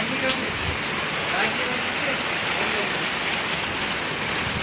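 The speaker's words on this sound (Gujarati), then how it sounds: "આ વરસાદ તો ચોમાસાની જેમ કાયમનું થયું આનું તો કાયમ એટલો વરસાદ આવે।" Heavy rain pours steadily with gusting wind at a village, a continuous dense hiss of falling water with no pauses, loud and close throughout.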